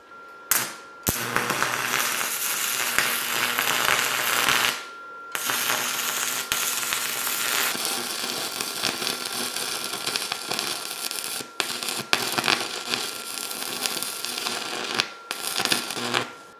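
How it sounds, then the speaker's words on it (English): Steel seam welding on a DIY hydraulic project gives a steady, loud crackling hiss in long runs, broken by a few short pauses as the bead is laid, with no talking. "I'm just going to weld right along this seam right here"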